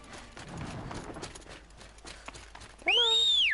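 Galloping hooves of a steed in the video game Horizon Zero Dawn pound steadily and close, then a bright rising-and-falling whistle-like cry cuts in loudly near the end.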